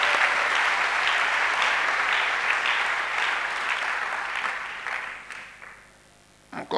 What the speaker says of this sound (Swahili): Tupikie neno la Mungu makofi.